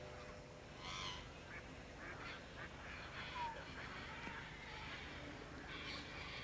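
Painted storks chattering in their nests, with faint scattered calls and squawks over a quiet outdoor background.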